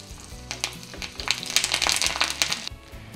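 Green chillies dropped into hot oil with crackled mustard seeds for a dhokla tempering, giving a close, loud sizzle with bursts of popping and crackling that swell midway and then ease off.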